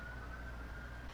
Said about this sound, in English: you can hear ambulances going